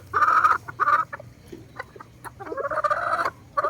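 A Boston Roundhead gamefowl rooster clucking up close, a few loud bursts of throaty calls separated by short gaps over a low background hum.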